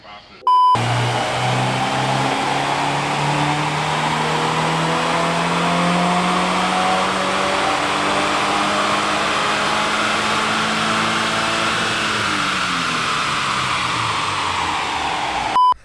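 A stock Subaru WRX (VA) engine revs hard and continuously on a dyno, climbing steadily in pitch through a long pull, loud and close, then easing off near the end.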